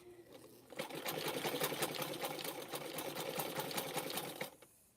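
A sewing machine stitches rope for making cups, running in one continuous loud, rapid needle-rattle for about four seconds before stopping.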